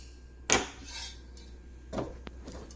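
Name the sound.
kadai (frying pan) being placed on the stove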